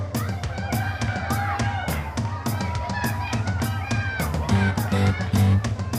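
Spectators cheer and shout at a muskrat skinning contest at the 2020 National Outdoor Show, with a steady, loud crowd din, bursts of whoops and a voice urging them on throughout.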